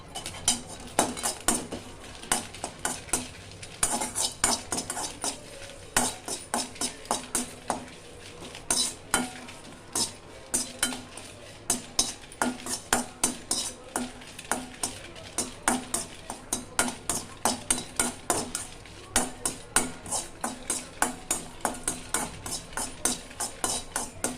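Dried red chillies sizzle in a pan for drumstick-leaf stir-fry with puffed rice and garlic, while a metal spoon scrapes and clatters steadily against the pan in a rapid rhythm.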